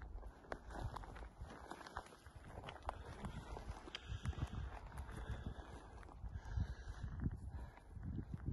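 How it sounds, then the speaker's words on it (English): Horses walking on a Pacific Crest Trail mountain path make irregular clip-clop hoofbeats on dirt and rock, moderately close, with rustling and outdoor background noise and no speech. "Horses are coming back."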